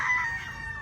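Rooster crowing on a gamefowl farm, a short clear call cut off within a second, moderately loud against faint background noise.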